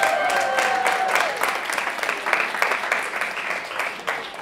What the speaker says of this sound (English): Clap it up for vitamin G, come on.